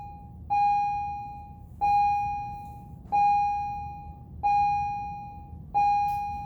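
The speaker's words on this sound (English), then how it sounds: "that's the bell for the period" An electronic school bell sounds in a classroom at the end of a period: five identical sustained tones, each starting sharply and fading, repeating at a steady interval of about one and a third seconds over a low room hum.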